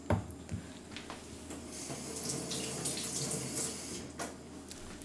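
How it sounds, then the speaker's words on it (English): Tap water runs steadily into a sink as fingers are rinsed while baking molasses crinkle cookies, a soft close splashing stream with small interruptions as the hands move. "I just keep rinsing off my fingers and I get different things on them."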